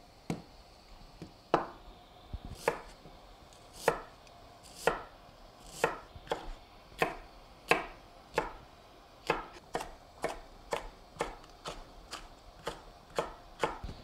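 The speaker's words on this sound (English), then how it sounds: "I'm going to chop up the vegetables." Knife chopping red bell pepper, poblano chili and white onion on a cutting board, a steady run of about twenty sharp, close chops that quicken toward the end, with no talking.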